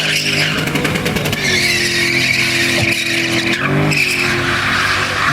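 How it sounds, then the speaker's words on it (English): A Lexus engine in a BMW roars loudly and continuously, its pitch holding high and shifting slightly, mixed with tyre squeal and skidding noise. "Listen to the Lexus Engine."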